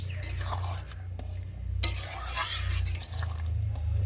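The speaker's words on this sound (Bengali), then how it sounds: "তো দিয়ে একটু ভালো করে নেড়ে" A spoon stirs egg curry with meat masala in a pan, scraping and swishing close by over a steady low hum, with faint sizzling and a few clinks against the metal.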